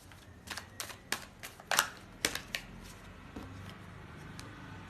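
Tarot cards are handled and drawn from a deck, giving a run of crisp papery snaps and flicks in an uneven rhythm, close and fairly quiet.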